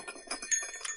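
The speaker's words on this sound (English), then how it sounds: "This bell is something that is referred to as a bear bell." A large red jingle bell used as a bear bell rings alone in a brief, bright metallic shimmer, with a few swelling jangles across one second.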